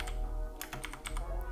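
Computer keyboard typing while adding a draw opacity option to a tkz-euclide segment in LaTeX code: a run of close, crisp key clicks in an uneven rhythm, fairly near and alone with no talk.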